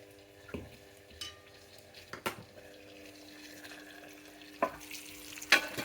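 Fish frying in a pan for Andhra-style fish curry, with a steady sizzle and occasional sharp spatters and clinks, heard close with no talk.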